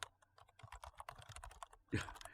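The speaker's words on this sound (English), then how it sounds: "The cat is typing on the screen." Soft, quick tapping of computer keys as a cat walks across a keyboard, with a brief louder clatter near the end, faint and close.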